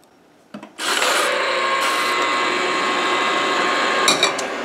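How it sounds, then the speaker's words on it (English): An ice cream maker churns behind a kitchen scene as a steady, loud, continuous mechanical whir that starts abruptly and runs unbroken. "You hear the ice cream maker in the back."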